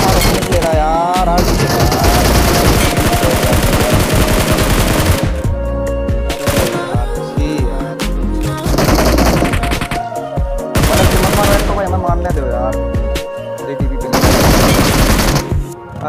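Loud, rapid automatic gunfire from the mobile battle-royale game BGMI, sustained bursts of machine-gun fire with a few brief pauses between volleys.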